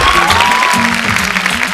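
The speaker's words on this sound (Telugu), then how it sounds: "క్లాప్స్ నలుగురికి" A studio audience on a Telugu TV game show applauds loudly and continuously, a dense wash of clapping close to the microphone with a faint tone running underneath.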